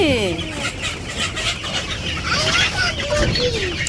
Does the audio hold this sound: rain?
no